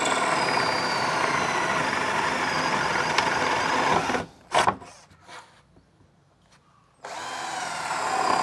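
A JLD J12S cordless drill in drilling mode whirs loudly and steadily, cuts off for about three seconds with a few clicks and knocks, then spins up again at full speed, close up.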